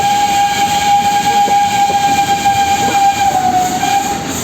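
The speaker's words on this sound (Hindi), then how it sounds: "नीलगिरी माउंटेन रेलवे के स्टीम इंजन की सिग्नेचर सिटी की आवाज़ आपके कानों तक पहुंचेगी" A steam engine on the Nilgiri Mountain Railway holds a long, steady whistle over the continuous rumble and rattle of the moving train, close and loud.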